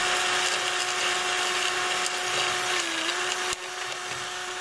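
A small brush scrubs dust from trailer light contacts to a steady, fairly loud motorized whir with a constant tonal hum that dips slightly in pitch before easing off near the end.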